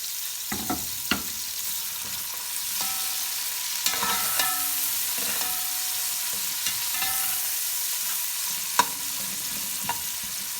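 Sliced onions frying in a pan as sliced tomatoes and green chilies are added, a steady soft sizzle with scattered clinks and scrapes of stirring, close and continuous without talk.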